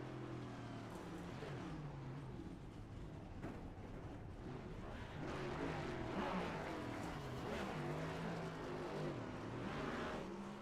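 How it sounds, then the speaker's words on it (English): A race car in a sim racing game holds a burnout on the back straightaway at Auto Club Speedway, a steady droning engine roar with shifting whine and no pause across the clip. "Well, the 16 car is doing a burnout on the back straightaway."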